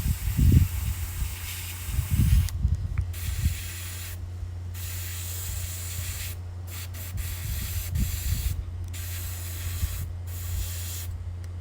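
An airbrush spraying paint on a sign, a continuous close hiss of compressed air and atomised paint with a low steady compressor hum underneath and a few soft handling bumps near the start.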